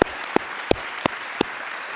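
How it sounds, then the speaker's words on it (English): Applause for Greg after a lecture at Wittenberg: five sharp, evenly spaced claps, close and distinct, with steady room hiss between them. "So let's give Greg a round of applause"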